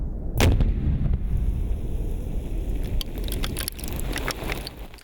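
Explosion set off in a Denver Police bomb squad demonstration, a loud blast at the start that rolls into a long rumbling roar, with crackling debris and clatter as it fades.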